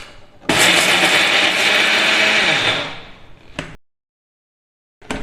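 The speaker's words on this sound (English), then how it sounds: "I'm going to be adding it into the mixie jar" A mixie jar grinder spins spices for sambar premix, including Kashmiri chili powder, turmeric, jaggery and salt. It gives a loud, close whirring roar for about three seconds, then winds down, with a brief second pulse, silence, and another burst starting.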